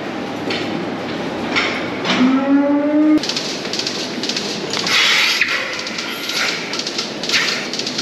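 A cow lets out a long, loud moo in the middle of a noisy dairy barn with a steady mechanical hum, just after milking.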